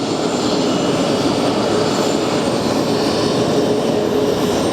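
A Copa Airlines airliner taxiing at JFK airport: a loud, continuous engine roar and whine that holds steady throughout, with no talk over it.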